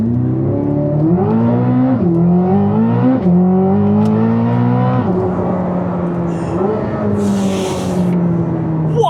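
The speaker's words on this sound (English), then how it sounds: "Let's start off by doing launch control. So foot hard on the brake, floor it." Chevrolet Corvette C8 ZR1 launching hard under launch control, its engine howling loud and close as it climbs through rising revs with quick upshifts, each gear change dropping and resweeping the pitch.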